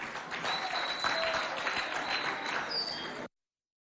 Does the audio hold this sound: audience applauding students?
yes